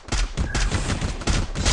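Rapid bursts of gunfire in the battle royale game Free Fire, dense overlapping shots rattling loud and close for the whole moment with no talk.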